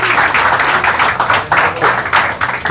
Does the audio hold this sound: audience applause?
yes